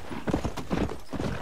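Horse hooves clip-clop in the Red Dead Redemption video game, a steady, rhythmic trot of close, moderately loud hoofbeats with no talking.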